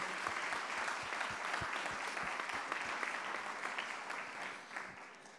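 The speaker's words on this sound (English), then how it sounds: "So Cristina, also clap for Cristina and for Simone." An audience claps steadily for several seconds, a dense patter of many hands that stays even and then fades slightly toward the end.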